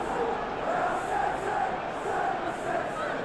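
A stadium crowd in the football game eFootball PES, at a Premier League match between Man City and Fulham, keeps up a steady, dense roar with no breaks.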